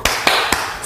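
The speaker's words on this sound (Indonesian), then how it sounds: "Tepuk semangat." Three sharp claps spaced evenly about a quarter second apart, loud and close, ringing briefly after each, a classroom spirit-chant clap led by a primary school teacher.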